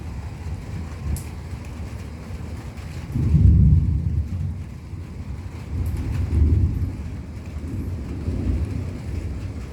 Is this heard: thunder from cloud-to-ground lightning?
yes